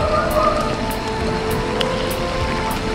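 Heavy rain pours steadily during a thunderstorm on an Alpine road, a close, constant hiss of drops with no break and no voices.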